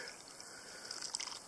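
Water poured into a camp dish outdoors in the wilderness, a faint, soft trickle and light dripping that rises into a few brighter splashes near the end.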